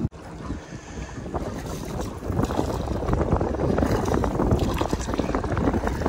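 Oars work a small hand-paddled country boat through the Karli creek, giving continuous nearby sloshing and lapping water with strong wind rumble against the microphone, building louder after the first couple of seconds.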